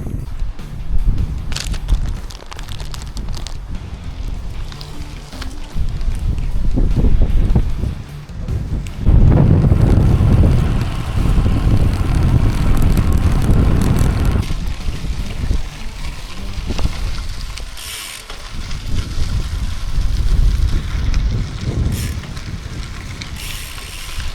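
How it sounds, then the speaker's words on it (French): Strong west headwind buffets the microphone while cycling along a bike path by the Loire, a loud continuous rumbling roar that swells and eases in gusts over the whole stretch. "Le vent d'ouest est très fort et il nous vient vraiment en pleine poire"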